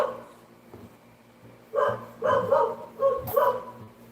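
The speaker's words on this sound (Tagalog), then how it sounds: "Ingay ng aso." A dog barks in a series of four or five loud, close bursts with short pauses between them, clear against a quiet, low-humming background.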